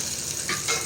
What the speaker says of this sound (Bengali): এবার আমি শাকে একটু তেল দিয়ে নিব